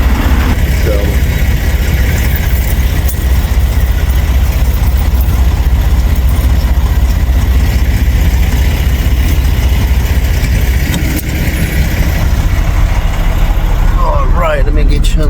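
A truck engine idles during a roadside breakdown stop in Elko, a steady low rumble running loud and close through the whole stretch, with people talking over it.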